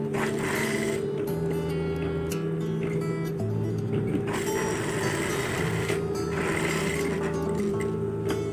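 A sewing machine stitching fabric for shorts with pockets, whirring in a steady, loud mechanical hum broken by short pauses, close up and with no talk.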